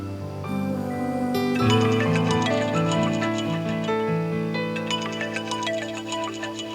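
A phone ringtone for an incoming call plays as a loud, steady melodic tune of bright repeating tones over a low sustained backing, filling the scene with no speech over it.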